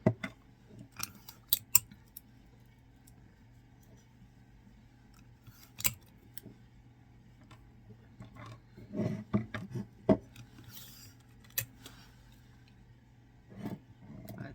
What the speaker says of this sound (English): And then I'm going to tape it down.